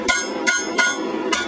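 A hammer beats a metal pot base shaped over a form, four ringing metallic blows at a steady pace, close and loud.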